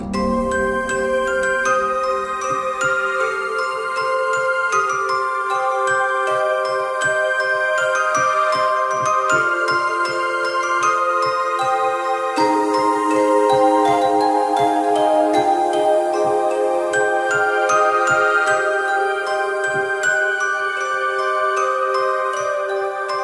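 Bright synthesized bell tones from Heavyocity Mosaic Leads ring out in a steady, layered melody, chiming continuously over a soft rhythmic pulse.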